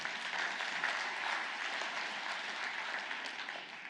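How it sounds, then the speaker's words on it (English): A forum audience in Manila claps together in a dense, even burst of applause lasting a few seconds, moderately distant and without voices over it. "A round of applause for the almost winner."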